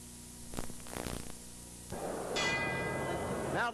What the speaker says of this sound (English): Now the bell for round 6.